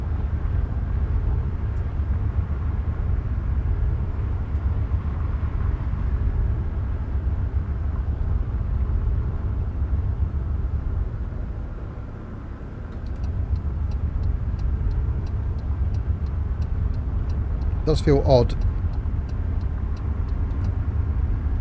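A truck engine drones continuously in the Tourist Bus Simulator video game, a loud, steady low rumble with rapid ticking near the end and brief speech over it.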